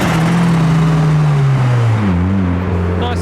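A Mark 1 Mazda MX-5 drives past leaving a Japanese car meet in Reading, its loud close engine drone falling in pitch as it goes by and fades, with no talking.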